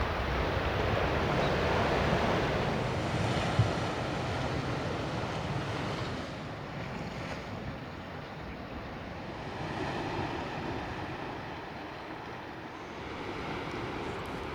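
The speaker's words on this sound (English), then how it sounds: "listening to the waves crashing" Ocean surf rolls and hisses steadily beside a seaside hot spring in Hokkaido, a continuous broad wash of breaking waves with no voices.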